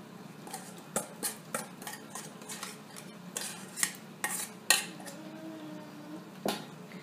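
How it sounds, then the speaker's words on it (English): Corn dog muffin batter of cornmeal, eggs and wet ingredients is mixed in a bowl until smooth, with a utensil clinking and knocking against the dish in irregular, close taps and scrapes. "And we're going to mix it until it's smooth."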